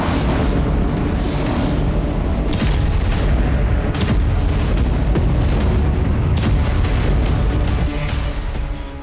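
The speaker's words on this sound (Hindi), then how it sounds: "ज्यादातर धमाके काला सागर से सटे इलाकों में हुए।" Continuous heavy rumbling with repeated sharp booms and blasts, loud and chaotic, like a barrage of explosions, from Russian missile strikes near the Black Sea coast.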